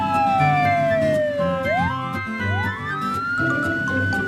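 A police siren wails loudly and close by, its pitch sliding down and then sweeping back up, over a steady rumble of traffic.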